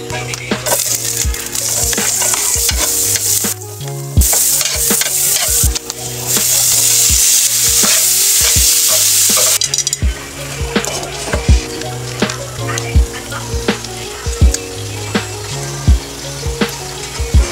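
Butter, garlic, onion and chili fry in a pan with a steady, loud sizzle, broken by frequent utensil clinks and stirring scrapes and a brief louder hiss midway; nobody speaks.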